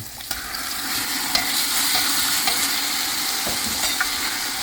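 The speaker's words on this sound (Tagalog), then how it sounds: "ginigisa namin ang chicken hanggang sa gigisahin natin ang chicken" Chicken pieces sautéing with ginger for arroz caldo, a steady bright sizzle filling the pan with a few sharp clinks and scrapes of a spoon stirring, close and continuous with no voices.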